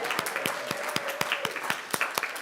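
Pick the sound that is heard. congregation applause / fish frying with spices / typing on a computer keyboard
congregation applause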